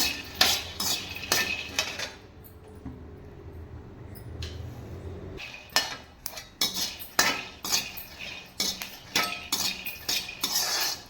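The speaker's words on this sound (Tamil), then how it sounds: "நிலக்கடலை வந்து வாசம் வர வரைக்கும் வறுக்கணும்" Peanuts roast in a pan while being stirred, giving close, rapid metallic scraping and clinking of a spoon against the pan with rattling nuts, in rhythmic bursts broken by a short quieter pause.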